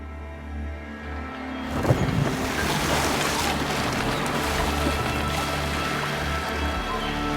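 A sailing ship at sea in the game Assassin's Creed Valhalla: after a quiet start, a sudden swell of rushing water, wind and waves carries on steadily and fairly loud, with no speech.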